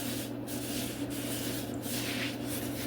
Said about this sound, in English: I'm just going to take this Scotch-Brite, guys.